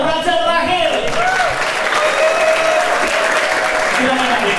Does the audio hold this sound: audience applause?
yes